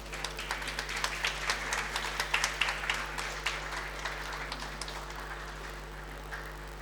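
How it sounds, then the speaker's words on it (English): An audience claps at an educational excellence award ceremony held by a hotel management institute, dense applause rising then gradually thinning and fading, heard over a steady low electrical hum. "Can you have a round of applause"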